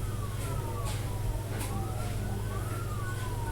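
A police patrol car siren wails during a vehicle pursuit, its sweeping tone rising and falling at moderate distance over steady traffic and engine rumble.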